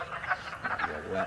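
A frog croaks several times in quick succession outdoors near an old natural cement mine, faint and somewhat distant, with no talking.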